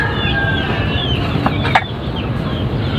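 A brooding Chinese hen clucks softly and repeatedly at close range, short low calls over a steady farmyard background.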